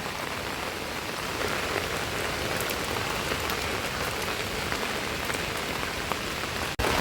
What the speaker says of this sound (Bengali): বিশাল জোরে বৃষ্টি হচ্ছে, বৃষ্টি তো থামার নামই করছে না।